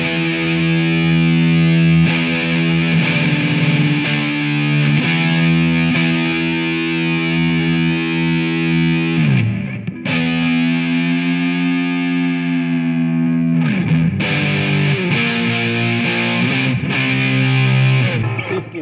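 Heavy distorted electric guitar with a preset on a Line 6 Amplifi amp, loud sustained chords ringing alone with two brief breaks for chord changes.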